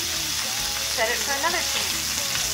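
Gammon bacon frying in a pan gives a steady, close sizzle throughout, with a brief voice speaking over it partway.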